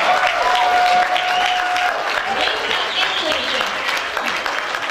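Concert audience in Aizkraukle, Latvia applauding steadily for the full length, a dense wash of clapping with a faint tone early on.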